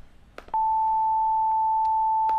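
A pure synthesized 880 Hz sine tone, an A one octave higher, starts after a few faint clicks and holds steady and loud for about two seconds.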